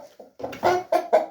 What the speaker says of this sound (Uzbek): Mana kul xo'rozini olib keldik.